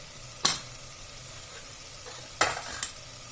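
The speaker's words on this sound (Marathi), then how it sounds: "फ्राय करून घेतली कलर खूप छान आलाय मसाल्याला" Masala of chili powder, coriander powder and turmeric frying in a pan for a pea and potato curry, a soft steady sizzle broken by a few sharp stirring scrapes, close by.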